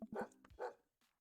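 A dog barks behind a closed door in a suburban cul-de-sac house, a quick burst of two or three sharp woofs followed by a faint yip, muffled and fairly quiet.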